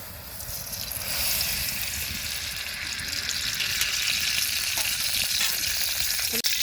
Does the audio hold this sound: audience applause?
no